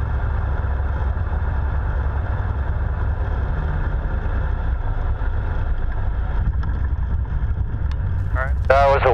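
Steady loud drone of a Boeing Stearman biplane's radial engine and wind rushing past an open cockpit during a wheel landing, continuous throughout, with people talking over the noise.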